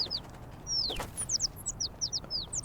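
Bird wings flap in the Little Kitty, Big City game while a flock chirps in quick, repeated bright calls, the flutter brief and soft beneath the steady chirping.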